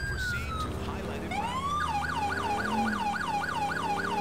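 Police car siren in the video game GTA IV, a loud electronic wail that rises and then switches into a rapid repeating yelp cycle, heard up close over low engine rumble.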